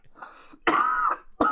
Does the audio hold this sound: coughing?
yes